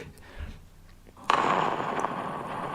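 A soundboard plays an explosion effect: a sudden loud burst followed by a rumbling, noisy decay lasting over a second.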